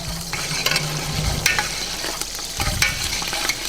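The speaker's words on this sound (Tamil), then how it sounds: "கருவேப்பிலை நல்லா பொரிஞ்சு வந்துடுச்சு" Curry leaves spluttering in hot oil while cooking nombu kanji, a busy crackling sizzle with sharp pops and stirring scrapes, close and continuous, no talking.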